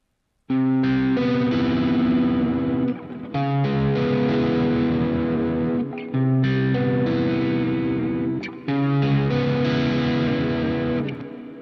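Music heavily processed by the Plenty audio plugin, with distorted, chorus-like tones in four sustained phrases separated by short breaks.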